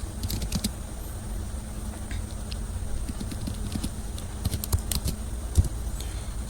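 Keys on a computer keyboard clatter nearby in an irregular string of taps and clicks while text goes into MS Word, fairly loud and with no speech.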